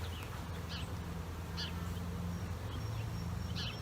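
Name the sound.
swarm of honey bees buzzing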